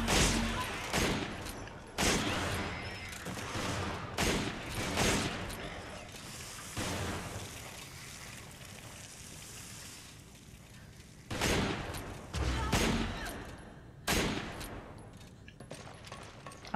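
Rifle fire in the PS4 version of Resident Evil 5, with single loud shots landing every second or two in an irregular rhythm over a dense, continuous bed of game combat noise.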